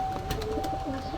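Young Kasuri pigeons coo softly nearby, a low burbling murmur with a faint steady tone running beneath it and no speech.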